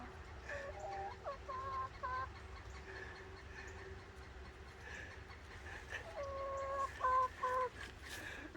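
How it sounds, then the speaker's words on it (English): A chicken on a cold asphalt roof clucks in short bursts, fairly close but soft, with quieter low background noise between the calls. "it looks like it's going to be a chicken on a cold asphalt roof"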